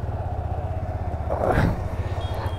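A Yamaha R15M motorcycle in metallic grey idles and pulses on a test ride, a steady low engine throb that swells briefly midway, fairly close and without talk.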